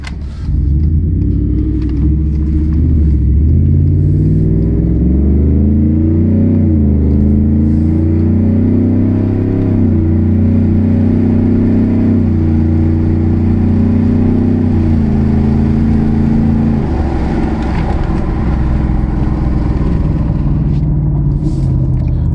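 A lowered 2020 Ford F-150 regular cab pickup with a 5.0 V8 and FCP Earthquake exhaust drives steadily, its deep, loud exhaust rumble rising and falling with throttle and revving up again near the end, with no talking.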